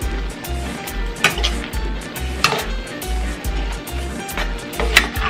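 Empanada filling with tomato sauce cooking down in a pan, a steady close sizzle with soft rhythmic stirring scrapes and occasional small clinks.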